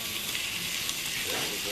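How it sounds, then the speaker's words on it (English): Lamb chops sizzle in a hot pan set over a fire, a steady close hiss with a few faint crackles running throughout. "Then I stick them in the hot pan"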